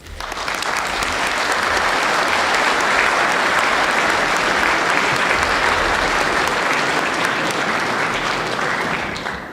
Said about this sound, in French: Vous pouvez l'applaudir, c'est mérité.